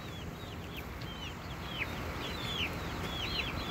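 Young chicks peep and cheep repeatedly in quick, high, chirping bursts over a constant low background hiss, growing a little busier toward the end, with no talking.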